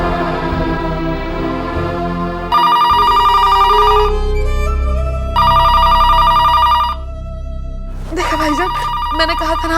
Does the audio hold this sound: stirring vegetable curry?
no